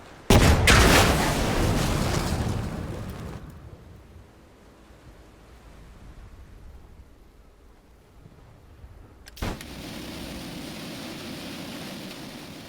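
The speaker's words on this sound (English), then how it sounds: "Flank shot into a panzer." A tank gun fires a flank shot into a panzer in the WW2 strategy game Headquarters: WW2, a loud, booming blast followed by a long rumbling decay and quiet stretch, then a second sharp report.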